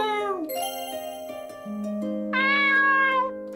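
A cat meows in a video game, several clear, tonal meows rising and falling in pitch with a soft jingling chime underneath, loud and close with no talking.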